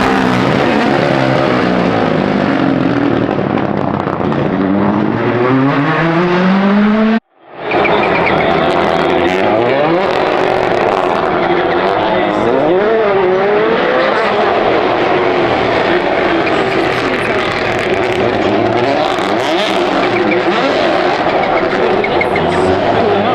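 A Monte Carlo Rally car races over rain-soaked cobblestones, its loud engine note climbing and falling through the gears. The roar cuts out briefly, then returns over a wash of wet road noise, with voices mixed in.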